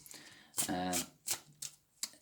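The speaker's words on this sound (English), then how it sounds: "I don't know why I'm pre-shuffling again." A tarot card deck shuffled in a few quick, crisp riffling bursts close by, with short pauses between them.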